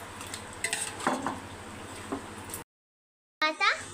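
Metal spoon scraping and clinking against a pot as nutmeg powder is mixed into a dish, a few close, light strokes, then a short break and a final burst of scraping.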